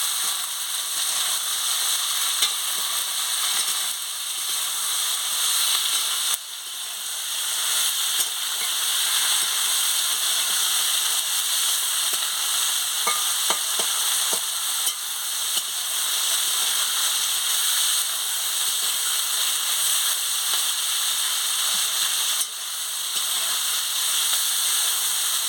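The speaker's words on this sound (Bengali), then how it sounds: "হলুদের গুঁড়ো দিয়ে দিচ্ছি, মতো নুন দিয়ে দিচ্ছি, ভেজে নিচ্ছি।" Vegetables fry in a pan with turmeric and salt, giving a loud, steady sizzle that runs unbroken for the whole stretch, with a few faint stirring clicks partway through.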